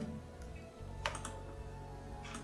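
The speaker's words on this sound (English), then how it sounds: "Push I on the keyboard to insert, like this, and then push Control R, add a cut here." Computer keyboard keys are pressed for software shortcuts, giving a few faint, close, scattered clicks over a low steady room hum.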